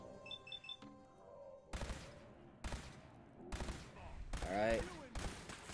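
Automated turrets firing in Fallout 4, a series of sharp, loud bursts of gunfire in rapid succession, with a voice speaking briefly near the start of the clip.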